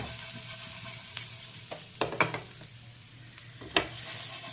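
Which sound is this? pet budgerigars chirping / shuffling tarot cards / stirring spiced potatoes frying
stirring spiced potatoes frying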